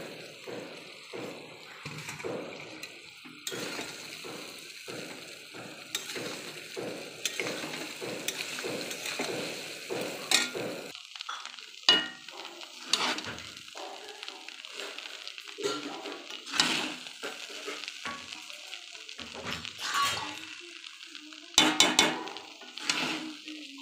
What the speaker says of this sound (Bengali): ফ্রাইড রাইসের ভাত চালগুলো দিয়ে দেবো।